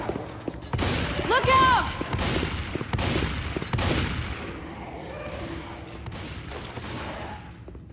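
Gunfire in the zombie shooter Left 4 Dead 2 comes as rapid, repeated sharp shots, loud and close, in a busy fusillade, with a voice briefly shouting partway through.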